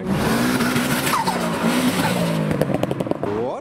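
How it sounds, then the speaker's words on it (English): BMW E46 doing a donut on a roundabout at a car meet, with sustained skidding tire squeal and a revving engine, loud and nearby, with wavering pitch as the car circles. "there's an E46 doing a donut around the roundabouts"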